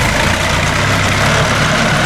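A tractor engine runs in too high a gear while muck spreading in a field, a loud, close, steady heavy rumble throughout with no voices.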